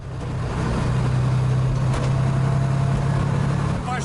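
A replica Lamborghini rolls over road strips in the city, its engine a loud steady drone with a prominent low hum and road rumble, a few bumps marking the strips.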